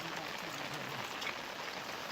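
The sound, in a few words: rain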